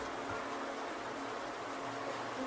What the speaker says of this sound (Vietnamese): Ngoài kia mưa vẫn đang rơi,